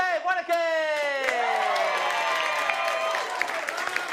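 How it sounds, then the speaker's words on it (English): A live comedy audience breaks into applause and cheering for a comedian, with rising whoops over a dense, sustained wash of clapping that continues to the end. "A big round of applause for Dave Wanake!"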